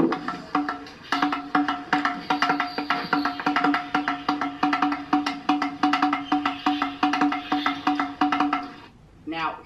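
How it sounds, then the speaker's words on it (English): Stone pillars at Hampi, India, tapped rapidly in a steady rhythm, giving a dense run of resonant drum-like knocks that ring with clear pitched tones, close and loud for most of the passage before stopping near the end. "Now, if you tap this, you will hear the sound of these drums."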